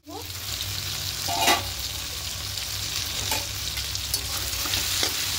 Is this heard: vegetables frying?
yes